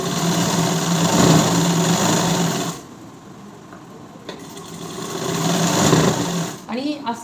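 A sewing machine stitches a blouse lining with a loud steady whir that stops briefly partway, then runs again before a few clicks near the end. A voice talks over the motor.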